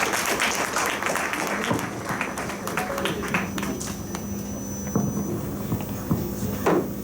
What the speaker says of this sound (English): one more round of applause for Ram, please